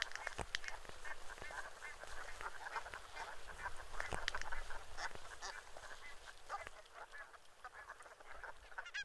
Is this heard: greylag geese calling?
yes